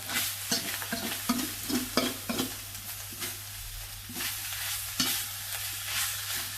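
Field rat and sour bamboo shoots stir-fried in a wok, with a steady sizzle and repeated sharp metallic knocks and scrapes of the spatula against the pan, close and loud, no talking.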